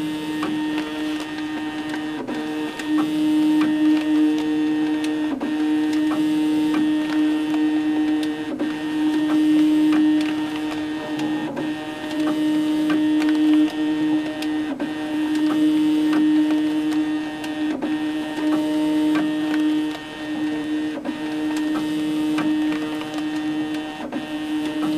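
A Tyvek label printer runs barcode prints with a steady tonal hum and regular faint clicks and ticks, close and continuous throughout with no talking.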